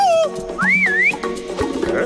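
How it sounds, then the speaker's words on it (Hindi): Cartoon whistling: a sliding, wavering tune that dips low, then climbs and bends upward over about a second, loud and close, with a busy cartoon soundtrack of music and effects underneath. "गंदगी बुला रही है, सीटी बजा रही है।"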